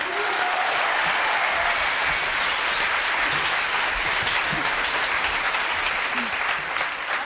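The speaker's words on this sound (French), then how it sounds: "mesdames, messieurs, applaudissements." Studio audience of a French television variety show applauds loudly and steadily, a dense sustained wash of clapping that holds for the full stretch without pause.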